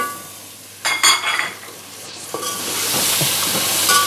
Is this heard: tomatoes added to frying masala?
yes